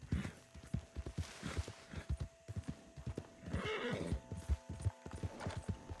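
Horse hooves clip-clopping at a steady walk in Red Dead Redemption 2, with a neigh partway through, close and clear over faint background.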